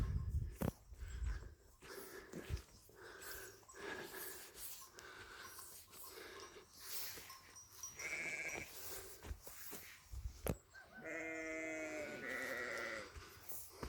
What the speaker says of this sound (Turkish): koyunlarımız güzel yayılıyor